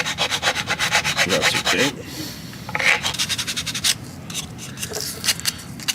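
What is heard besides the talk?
sanding a scale model car wheel well with sandpaper board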